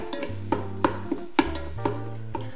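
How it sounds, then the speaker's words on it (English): Breakfast sausage being chopped with a mix-and-chop tool in the nonstick inner pot of a Ninja Foodi, giving a series of sharp scraping clacks about every half second over a low steady hum, close and moderately loud. "It does a great job at chopping up the meat, and it is perfect for nonstick surfaces like the inner pot of the Ninja Foodi."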